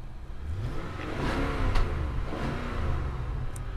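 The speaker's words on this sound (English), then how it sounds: "Give her a couple revs since you have it started and I'm by the exhaust." A 2019 Nissan Armada SUV engine revs up and settles, a steady mid-pitched rumble with a couple of throttle swells, recorded close to the exhaust.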